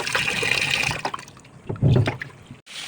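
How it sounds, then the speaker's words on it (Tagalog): Dried fish, daing, being soaked and washed in water: close splashing and sloshing, with a trickling pour and then a heavier splash toward the end, and no talking. "Binabad ko muna siya ng tubig at hinugasan"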